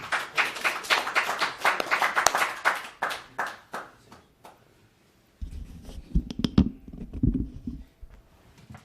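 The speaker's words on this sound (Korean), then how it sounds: "다시 한번 박수로 부모님께 드립니다" Scattered, uneven claps from a small audience at a Korean War veterans' association gathering, close and sharp for a few seconds before thinning out, then giving way to a low rumbling murmur.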